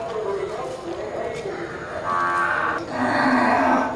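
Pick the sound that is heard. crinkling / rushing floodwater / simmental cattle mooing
simmental cattle mooing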